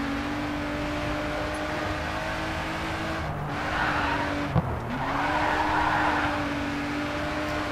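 Race car in the video game GRID 2 with its exhaust broken off, a steady engine drone with tire squeal and a brief skid or scrape midway, and no talking.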